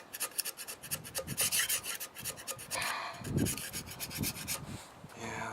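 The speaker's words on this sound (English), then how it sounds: "so I got a scraper too" A metal scraper rasps over the head of a 1988 Jeep XJ engine outdoors in bright sun, a steady run of close, gritty strokes scraping the surface.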